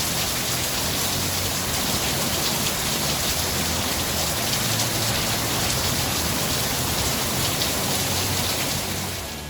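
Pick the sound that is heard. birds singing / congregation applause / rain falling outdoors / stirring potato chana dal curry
rain falling outdoors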